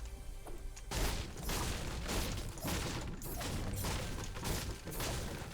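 Firework rocket launchers destroy buildings in a video game, with repeated booming blasts and crashing debris in dense bursts that run on almost continuously after a quiet start, loud and close.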